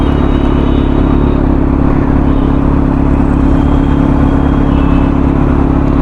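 A Kawasaki Z900 superbike engine runs steadily at idle in heavy rain, a loud, constant low rumble with a mechanical whir and clatter throughout, with no speech.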